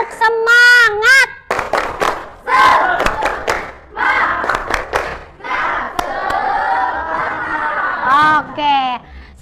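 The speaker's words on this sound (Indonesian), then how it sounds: "kita tepuk semangat lagi ya" A group in a teacher-training classroom session performs rhythmic 'tepuk semangat' clapping. Bursts of sharp, patterned claps alternate with loud chanted and shouted voices, followed by chatter and laughter.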